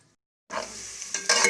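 Chopped onions and potatoes hit hot oil, about a cup, in a pan for a curry, giving a sudden close sizzle with a stirring scrape and a louder burst near the end.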